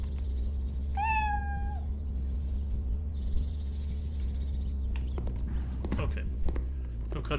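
A cat meows once in the video game Cafè Owner Simulator, a clear rising-falling call, followed by soft game sounds and faint clicks, with a quiet voice speaking nearby.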